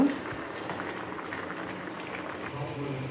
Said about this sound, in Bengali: ঝোলটা সুন্দর করে ফুটিয়ে নিয়েছি